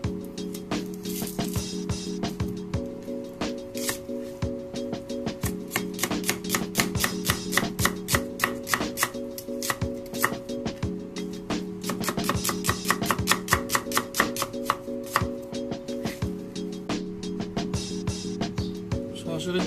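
Onion being chopped with a knife on a board while making sardine macaroni, steady rapid cuts repeating close by under a continuous music bed with a recurring melodic pattern.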